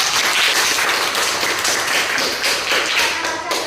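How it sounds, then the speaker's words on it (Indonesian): Students in a classroom clap for a group in a loud, dense burst of close applause that runs throughout with slight rhythmic surges and no one speaking over it. "Tepuk tangan untuk kelompok 2."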